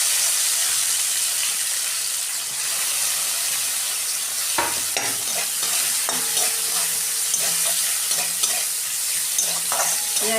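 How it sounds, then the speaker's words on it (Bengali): Sliced onions sizzle in a little oil with black cumin seeds in a wok, a loud continuous hiss with scraping stir strokes and occasional clinks throughout. "পেঁয়াজটা আমি একটু ভেজে নেবো লাল লাল করে।"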